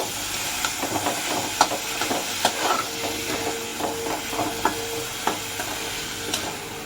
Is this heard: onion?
yes